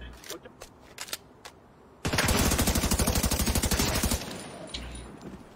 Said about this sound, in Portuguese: Foi um headshot bem dado